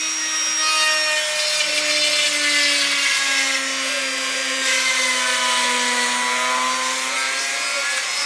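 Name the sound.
power tool sanding or routing wood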